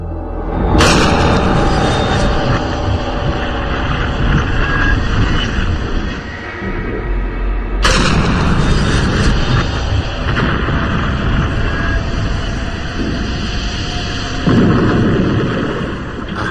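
A pressurised Comet jet airliner fuselage model is deliberately ruptured inside a test chamber. Two loud booming bursts are heard, each followed by a sustained roaring rush of escaping air.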